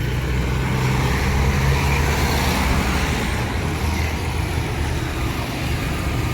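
Steady road traffic rumbles near a bus route in Palembang, a continuous broadband roar of passing cars and heavier vehicles at moderate distance with no clear breaks.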